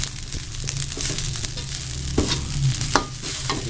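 White fried rice (nasi goreng putih) being stir-fried in a pan at home, a steady close sizzle with scraping spatula strokes and a few sharper clanks against the metal, continuous throughout.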